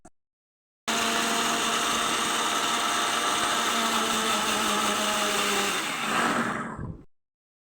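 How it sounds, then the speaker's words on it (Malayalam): Kitchen mixer grinder grinding garlic for chicken curry runs for about six seconds as a loud, steady, high-pitched whirring drone, then winds down and stops, with no talking. "വെളുത്തുള്ളി ഇട്ട് ഒന്ന് നല്ലോണം ഒന്ന് കറക്കിയെടുക്കാം."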